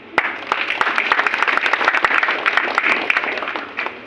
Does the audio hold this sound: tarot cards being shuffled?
no